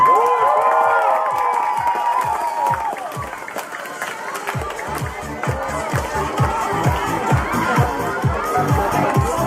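Crowd at an outdoor school summer relay event cheering and clapping for a team, with shouting children and rhythmic thumping claps building in the second half, voices mixed throughout.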